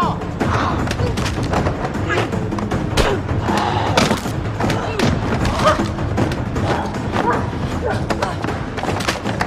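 Gunshots in a zombie comedy-thriller scene come as a rapid series of heavy thuds and bangs, mixed with loud, frantic shouting voices throughout.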